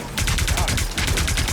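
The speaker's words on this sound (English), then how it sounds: "shooting mortar shells out of a fucking handgun" A handgun fires mortar shells in the Marvel Rivals video game, a rapid burst of loud, evenly spaced booming shots continuing throughout.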